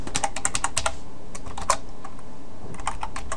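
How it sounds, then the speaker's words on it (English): Quick keystrokes clatter on a computer keyboard in close, crisp bursts, with a short pause in the middle before a few more taps. "I don't know why I'm typing."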